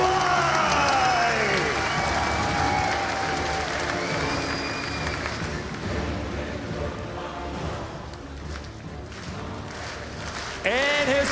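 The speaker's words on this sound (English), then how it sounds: "Let's make some noise in the bottom right, in the red, our Terran player, he is TY" Live esports crowd at the IEM Katowice 2017 StarCraft II grand final, cheering and applauding loudly and continuously for a Terran player, a sustained roar of clapping and shouts that briefly swells again near the end.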